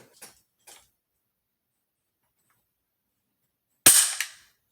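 A Swiss K31 rifle trigger is dry-fired, giving one sharp, close, loud mechanical click that decays quickly, preceded by two faint small ticks and near silence.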